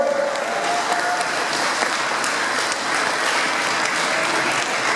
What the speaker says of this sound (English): Round of applause for Scott and Danielle.